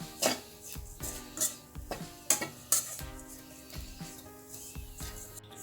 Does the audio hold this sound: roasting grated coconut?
yes